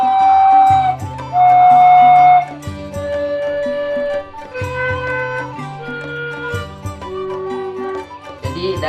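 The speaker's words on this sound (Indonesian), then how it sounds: "kebetulan ini suling Sunda 6 lubang, ada 6 lubang" Six-hole Sundanese suling bamboo flute plays a series of sustained notes over a steady instrumental backing, the flute line loud and clear with some long held tones.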